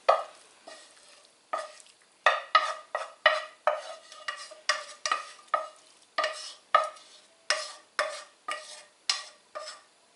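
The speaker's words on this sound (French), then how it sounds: "on va y mettre la préparation des œufs avec les oignons" Egg and onion mixture for a chicken and mushroom pastilla is added to a pan and stirred, giving a run of about twenty sharp scraping strokes over a soft sizzle, close and fairly loud, with no talk.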